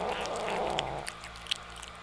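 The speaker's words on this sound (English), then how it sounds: "Pie Crust sometimes growls when he eats." A kitten gives a low, rumbling growl close up, with a few small smacking and chewing sounds as it eats.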